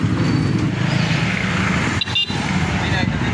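Street traffic in the town center of Puerto Galera: a steady wash of passing cars and engines close by, with a brief dip partway through, and voices mixed into the roadway noise.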